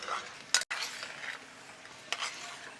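Washed potatoes tossed into frying masala in a pan: a soft, low sizzle with a couple of quick scraping stirs and light utensil clinks, fairly quiet and brief, no voices.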